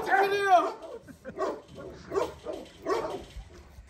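A Turkish shepherd dog nearby gives a few short barks and whiny yelps in quick succession, with a person talking over them in Turkish.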